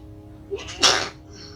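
A single sneeze bursts out sharply after a short breath in, close and clear, followed by quiet.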